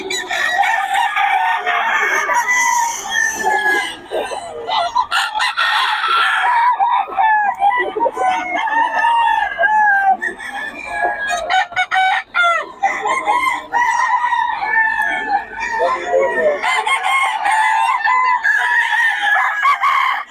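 Many roosters crow loudly and overlap at a market in Bocaue, Philippines, with clucking mixed in, forming a dense, continuous chorus close by.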